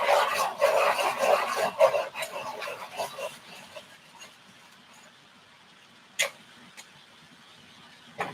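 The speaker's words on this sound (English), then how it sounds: "I'm gonna need to sharpen this. Oh yeah, I got a new sharpener, but it sharpens too long." A new pencil sharpener grinds a colored pencil with a rapid rasping scrape for about three seconds, then fades to quiet with a couple of brief knocks.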